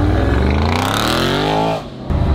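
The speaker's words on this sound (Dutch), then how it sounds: "Auto achter je." A car sweeps past close behind a moving Tesla fitted with an exhaust, its engine note rising in pitch and then dropping sharply as it goes by, loud and near, with a brief settling after the pass.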